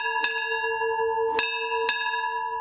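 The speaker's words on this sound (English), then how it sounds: "Stand by for bells!" Ship's bells aboard the wooden warship USS Constitution ring out in a few sharp, clear strikes, each leaving a bright, sustained metallic ring that hangs between blows in an otherwise quiet setting.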